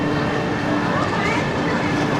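Steady loud rumble and hum of a Chinese high-speed train at a station platform on the Chengdu to Guanghan line, a continuous dense roar with faint rail clatter throughout.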